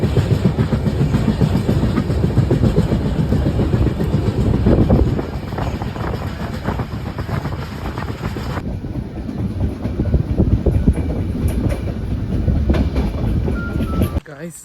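A train runs on rails with a loud, steady rumble and a dense rolling clatter that continues unbroken throughout, shifting slightly in tone partway through before cutting off at the end.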